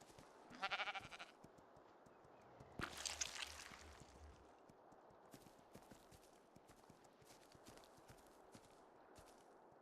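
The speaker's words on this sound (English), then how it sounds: "Little baby sheep, where are you?" Baby sheep in the game ARK Survival Ascended bleat in a couple of short, thin cries, one near the start and a louder one around the third second, over a steady background of in-game footsteps and ambient clatter.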